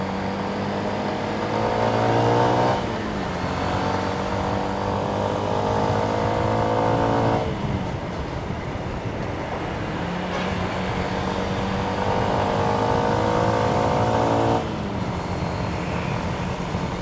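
A Yamaha Exciter 135 motorcycle engine accelerates on a road test ride, its steady up-pitching drone rising repeatedly through several gear changes with brief dips between, loud and continuous over wind noise.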